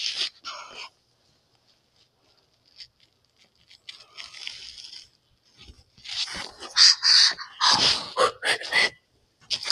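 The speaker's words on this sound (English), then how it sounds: "My dog Treasure." A dog whimpers and whines indoors in short, high-pitched bursts separated by quiet gaps, growing busier and louder toward the end, with some scuffling noise.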